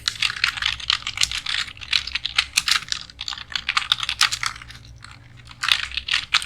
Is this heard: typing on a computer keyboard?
yes